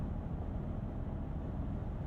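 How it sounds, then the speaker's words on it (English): Low, steady hum from the all-terrain tires of a 2023 Toyota Tundra TRD Pro, heard from inside the cabin as a continuous rumbling drone with no speech. "And there's a light hum from those tires"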